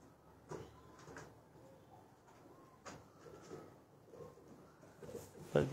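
A pair of Ferozpuri pigeons give soft, intermittent low coos, fairly quiet and close, with a few knocks and shuffling sounds and a louder thump at the end.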